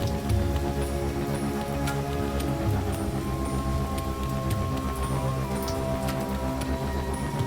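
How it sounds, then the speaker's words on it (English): Heavy thunderstorm rain pours steadily onto a street and surrounding surfaces, a dense, even hiss with scattered drips and patters, close and constant with no talk. "It is a lot of rain."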